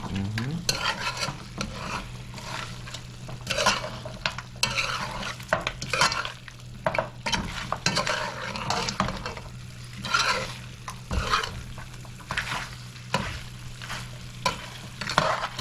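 Lamb pepperpot with cashew simmers in a pot while a spoon stirs it repeatedly, close scraping and clattering strokes over a steady low sizzle, with no voices.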